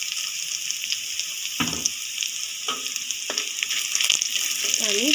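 Two bay leaves and whole garam masala tempering in hot oil beside fried onions in a pan, giving a steady bright sizzle with a few clinks and stirring scrapes, close and loud, no talk.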